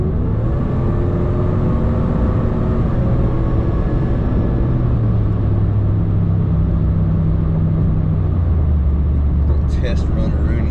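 Truck engine on a test run during fuel tuning, a loud steady rumbling drone with a slowly falling pitch, continuous throughout and close by.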